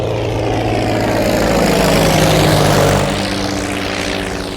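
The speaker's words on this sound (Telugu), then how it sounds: "ఫస్ట్ టైం ప్రైవేట్ ఫ్లైట్ ఎక్కినందుకు చాలా హ్యాపీగా ఉందిరా." Propeller engine of a small private plane drones steadily and loudly at close range, a constant throaty hum that swells slightly and then eases back without any interruption.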